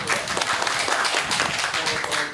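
Hands clap steadily through a group applause at a meeting judging green bamboo shoot quality in northern Taiwan, a dense, continuous patter of many claps at moderate loudness with no clear talk.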